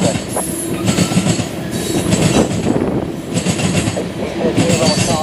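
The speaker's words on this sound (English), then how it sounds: "What do you think of that train? Going quick?" A CSX freight train led by ES44AH and ES40DC locomotives rushes past close by, with a loud, continuous roar of rolling cars, wheel clatter and some flange squeal filling the whole stretch.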